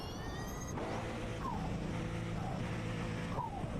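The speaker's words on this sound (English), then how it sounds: "I guess it is a blow-off valve." A turbocharged race car's blow-off valve in iRacing, heard as short whooshing release puffs over a steady engine drone; the car is at speed and its engine hums throughout.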